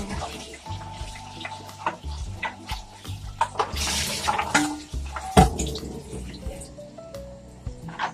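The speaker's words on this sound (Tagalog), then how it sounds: "Kumukulo na yung paglulutuan ko." Water for dinengdeng vegetable stew bubbles and splashes in a pot close by, with clinks of cookware and scattered drips over a steady background.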